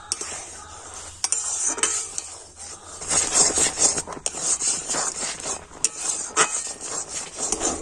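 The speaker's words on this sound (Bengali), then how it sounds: "এক বাটি সুজি আর এবার আমি নাড়াচাড়া করে একটা শক্ত ডো তৈরি করে নেবো" Semolina dough being stirred in a pot, with scraping and rasping spoon strokes and a soft sizzle underneath, plus occasional clinks, and no voices.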